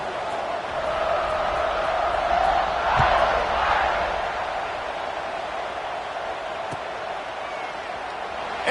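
A football stadium crowd at Notre Dame sends up a sustained, distant roar of cheering that swells briefly in the middle and then settles back to a steady hum.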